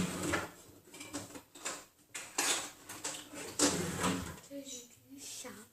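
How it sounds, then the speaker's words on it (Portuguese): A spoon is picked up amid clinking cutlery and clattering kitchenware, with sharp metallic knocks scattered between stretches of nearby talk. "eu vou pegar uma colher"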